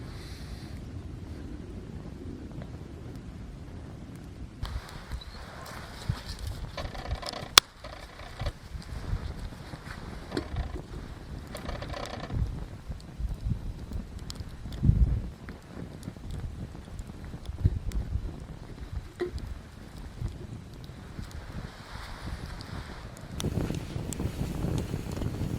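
Gusty wind blows outdoors beside a campfire, buffeting the microphone in uneven rumbling surges with occasional knocks and clatters, fairly loud throughout.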